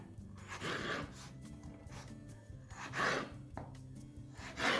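A knife slicing through raw potatoes on a cutting board while making homemade fries, a few close, soft chopping strokes spaced over several seconds, with no talking.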